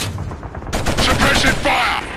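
Automatic gunfire in the Killzone PS2 video game, a dense burst of rapid shots starting abruptly partway through and continuing loud to the end, with noisy crackling battle ambience.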